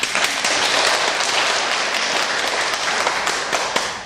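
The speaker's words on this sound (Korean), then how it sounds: "박수 한번 주세요." An audience at a Buddhist dharma assembly held at Beopanjeongsa temple in Mokdong gives a dense, sustained round of clapping for about four seconds, fairly close and loud, with no talking over it.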